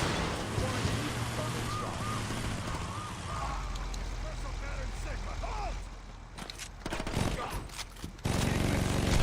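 Rapid SMG gunfire from Saints Row 2, with sustained bursts over dense game action and vehicle-like rumble, and voices talking throughout. The firing cuts out briefly near the end before the noise resumes.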